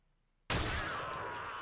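A single sudden gunshot from a weapon in the video game Warframe bursts out after near silence, loud and sharp, followed by a sustained ringing tail.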